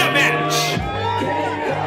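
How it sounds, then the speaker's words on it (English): A packed Mayhem on Mills crowd roars, shouts and whoops for the winner of a bout, loud and continuous throughout, with voices rising over the din. "just the Mills crowd going crazy for him"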